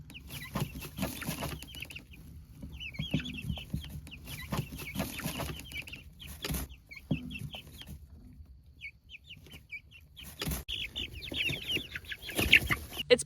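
Chickens and young chicks in a coop with nesting boxes, clucking and chirping in scattered bursts that come and go, fairly faint and close, with rustling between calls.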